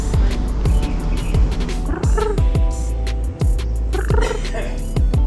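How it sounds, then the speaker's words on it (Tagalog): Birds in Kowloon Park, Hong Kong, calling loudly and close, repeated gobbling, croaking cries in quick succession over a steady outdoor background hum. "May mga ibon dito guys."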